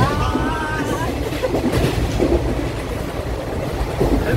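A passenger train rolls steadily away from a station platform, a continuous loud rumble with faint wheel clatter, briefly joined by a squealing tone early on.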